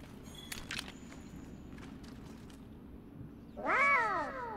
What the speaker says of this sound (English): Wait for the Plunderer Grimalkin cat to investigate the carcass.